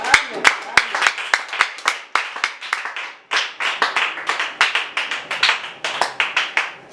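A church congregation claps in praise during a French-language worship service, loud close hand claps in quick uneven bursts that swell into a continuous round of applause with voices faintly mixed in.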